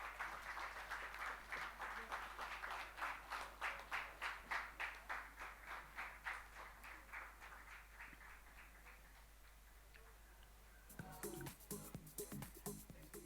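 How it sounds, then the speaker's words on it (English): An audience at a trade conference claps in a quiet, distant room, rhythmic applause fading away partway through before a brief burst of sound returns at the end. "Can we have the audience encouraging and cheering,"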